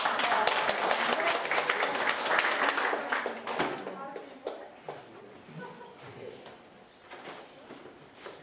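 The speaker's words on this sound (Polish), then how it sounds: "Brawa." Concert audience applauding at a song studio's May concert, loud dense clapping at first that thins out into scattered individual claps and fades by the end.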